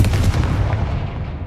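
Confringo explosive spell blast in Hogwarts Legacy, a single loud booming impact that rings out and fades over about a second, heard alone.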